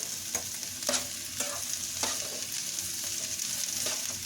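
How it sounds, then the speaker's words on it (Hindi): Vegetables, including capsicum, fry in a pan for spring rolls, a continuous sizzle punctuated by several sharp scraping stirs of a spoon at close range. "इसको भी हम अच्छी तरह से हिलाएंगे"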